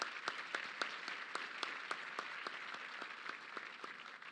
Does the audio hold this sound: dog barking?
no